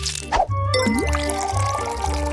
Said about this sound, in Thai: จากนั้นก็เทซีอิ๊ว